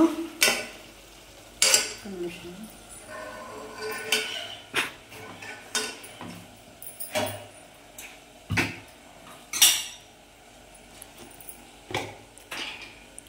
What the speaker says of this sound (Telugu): చికెన్ ఇలా ఫ్రై అవుతుంది కదా